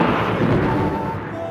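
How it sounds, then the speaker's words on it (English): A loud, close thunderclap during a storm in a Croatian garden beside a cafe, a broad rumbling roar that holds strong for about a second and a half before easing slightly. "the loudest thunderclap I've ever heard."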